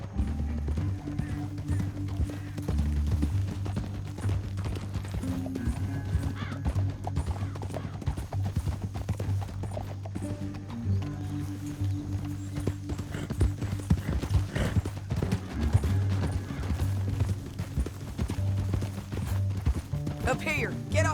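Horse hooves clip-clopping in a steady rhythm throughout in Red Dead Redemption 2, layered over a low droning musical score, with occasional voices and a horse whinnying.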